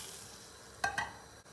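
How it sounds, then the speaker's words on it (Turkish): Chicken soup stirred in a pot after hot mint oil is poured over it, a soft faint sizzle with a couple of brief clinking stirs near the middle. "Şöyle bir karıştırıyoruz."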